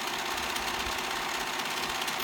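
A serger overlocks the raw edge of garment fabric with a fast, steady mechanical whirr and rapid stitching rattle, close and continuous throughout.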